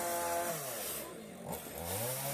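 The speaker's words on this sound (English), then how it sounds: "We've also seen master chainsaw artists in action here building a miniature house" Chainsaw carving wood to build a miniature house at a countryside site in Japan, the engine revving up and down with pitch sweeps as it bites and eases off, moderately close.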